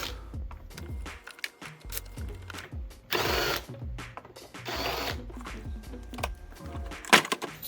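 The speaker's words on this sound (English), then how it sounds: "You'll want to remove the T40 Torx bolt on the other side of the airbox." A power tool whirs in short repeated bursts while a T40 Torx bolt is removed from the airbox of a MK6 Jetta TDI, each burst close, with clicks and clatter between them.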